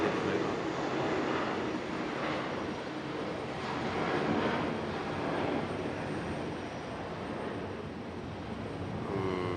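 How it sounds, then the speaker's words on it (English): United Airbus A319 jet departing Raleigh Durham airport, a steady, moderately distant broadband engine roar that pulses slightly in level over several seconds, without voices. "Sounds like we got another A319 departure. And we do. United A319."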